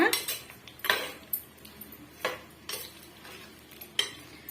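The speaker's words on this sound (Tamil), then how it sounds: "இப்ப இது எந்த அளவுக்கு நம்ம வறுத்து எடுக்க முடியுமோ அந்த அளவுக்கு வந்து நம்ம வறுத்து எடுத்துக்கலாம்" Bitter gourd is stirred and fried in a pan, with repeated scraping and clinking of a utensil against the pan at a steady rhythm over a faint sizzle.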